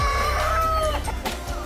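Chickens cluck and squawk up close at an animal rescue, with one drawn-out, rising call at the start followed by a burst of rapid, overlapping clucks from several birds.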